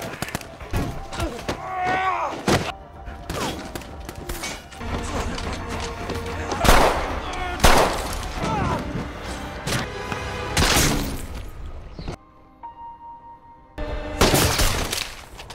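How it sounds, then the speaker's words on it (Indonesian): Loud gunshots and bursts of gunfire amid crashes and thuds, with music and voices underneath, from the action film Extraction. "Dan tembakan kedua kolonel pun mengarah ke Tyler."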